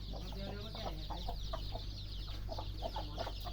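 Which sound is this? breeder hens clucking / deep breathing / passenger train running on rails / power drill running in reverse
breeder hens clucking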